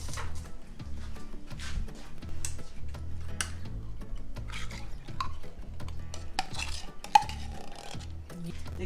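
Steady clattering and scraping of a spoon against a casserole dish as cheese is spooned into a broccoli and cheese casserole, busy and close, without speech.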